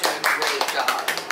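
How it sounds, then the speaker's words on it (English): A small group gives a quick round of applause at home, a few brisk claps rising in short bursts close by while voices talk over them. "Everybody give him a round of applause."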